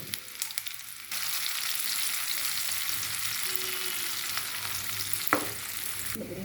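Chopped shallots hit hot oil for a wedding-style fish curry, and a dense close sizzle jumps up and holds steadily, with a couple of small knocks and one sharp clink near the end, and no speech.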